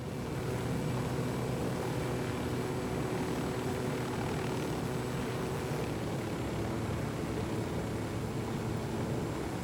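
Steady, droning helicopter engine and rotor noise from Ghost Recon Wildlands, a constant near hum holding level for the whole stretch with no talk.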